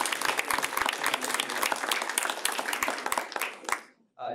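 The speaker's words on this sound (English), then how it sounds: "let's give a round of applause to our" Audience applauding a panel at a medical school event, dense steady clapping from a room full of people for about four seconds, then cutting off abruptly into brief silence.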